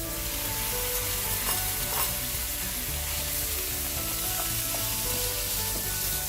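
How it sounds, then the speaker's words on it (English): Beef frying in hot oil in a wok for black rice with beef and peppers, giving a steady, dense sizzle that holds close and even throughout, with a few faint clicks of stirring and no voices. "I'm heating a little more oil in my wok, and it's time to cook our beef."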